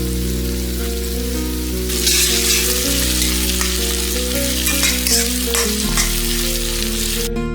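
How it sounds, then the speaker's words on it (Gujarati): Finely chopped onions fry gently on low heat for a Kathiawadi-style sing bhujiya curry, giving a steady close sizzle that swells louder after the first couple of seconds and holds, with a low background hum underneath. "ઝીણી કાપી લીધેલી ડુંગળી એને ધીમા તાપે સરસ શેકાવા દઈએ."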